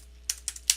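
Typing a number on a computer keyboard: three or four quick, crisp key taps, close and isolated against near silence.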